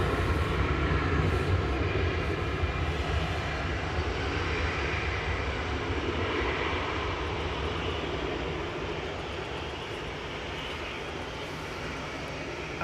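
An easyJet airliner departs Manchester Airport for Palma de Mallorca on a winter morning with de-icing under way, its engines giving a steady, rumbling roar that slowly fades as it climbs away.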